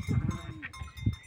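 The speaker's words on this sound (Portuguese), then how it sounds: "vou soltar as cabras para o pasto" Goats on a farm bleat in short, close calls, a quick cluster at the start and another near the end, with faint background noise between.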